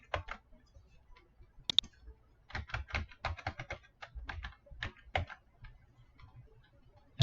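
Password being typed on a computer keyboard in irregular bursts of quiet, close clicks with short pauses between keystrokes, ending in a sharper final tap.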